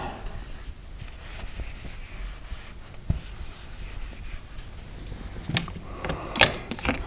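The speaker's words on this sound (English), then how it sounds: "let me erase these graphs" Graphs are erased from a classroom board with steady scrubbing and rubbing strokes, punctuated by a few sharp taps and knocks near the end.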